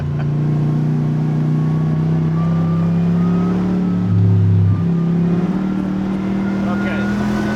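Steady engine drone from a 1965 Corvette taking a second-gear turn, a loud sustained hum that briefly swells midway, heard close from inside the car with no break.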